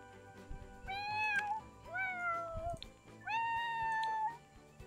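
Three drawn-out cat meows from a life-simulation video game, evenly spaced and clear, with faint game sounds underneath.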